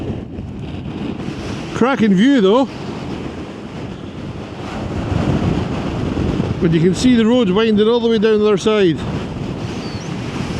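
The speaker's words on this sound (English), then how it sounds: "It is blowing a gale." Strong gusting wind on a Scottish mountain pass buffets the microphone in a constant roar while a person talks over it in two bursts.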